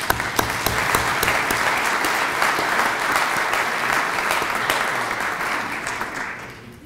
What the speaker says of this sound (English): Please, let's greet them with an applause.